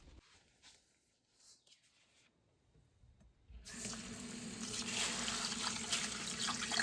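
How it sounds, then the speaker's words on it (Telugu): Basmati rice being washed by hand in a pot for prawn dum biryani, at first a few faint splashes, then from mid-clip a steady, loud rush of tap water and sloshing that continues to the end. "అవి వాటర్ మరిగే అంతలోపు ఎందుకు టైం వేస్ట్ అని చెప్పి బియ్యం కడిగేసుకుంటున్నాం"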